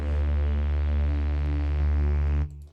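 A heavy, distorted synth bass drones in a dark synthwave style, thick and buzzing with compressor distortion, holding a loud sustained tone before cutting off abruptly near the end.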